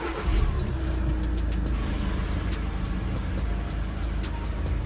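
A repaired Volkswagen car engine runs steadily at close range, a constant low rumble filling the whole stretch with a few light ticks above it and no talk.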